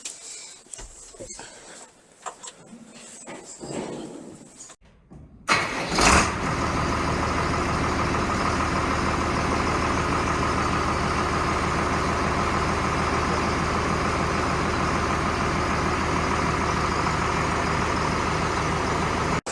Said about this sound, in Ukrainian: Запускаємо двигун, але перед цим зараз прокачаємо фільтр.